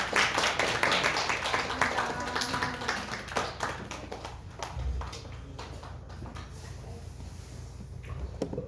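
Church congregation at a Sunday worship service clapping in congratulation after a deacon appointment, the clapping strongest at first then thinning out and fading under low room noise.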